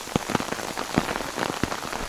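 Raindrops patter and knock on a tarp outdoors, a close, irregular series of soft taps over a steady wet hiss.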